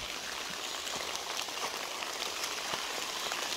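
Steady rain falls outdoors in a rural village setting, a dense even hiss of drops striking surfaces close by, continuous and fairly loud with no talking.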